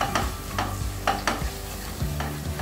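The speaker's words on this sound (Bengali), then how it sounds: "আদাটা কিছুক্ষণ কষে নিয়ে এর মধ্যে সব গুঁড়ো মশলাগুলো দিয়ে দেব" Ginger and ground spices sauté in a pan for Bengali vegetarian bhoger khichuri, with a steady close sizzle broken by repeated spatula scrapes and knocks in an uneven rhythm.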